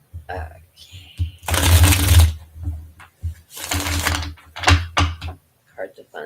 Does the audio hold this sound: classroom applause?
no